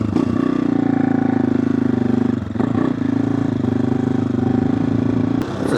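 An AJP PR7 motorcycle engine thrums steadily while being ridden, a loud, close, pulsing single-cylinder chug with a brief dip partway through. No one speaks.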